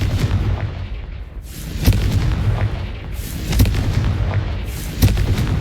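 Bombarda and Confringo explosion spells blasting in Hogwarts Legacy: a dense, loud rumble of combat punctuated by about three sharp, booming impacts spaced roughly a second and a half apart.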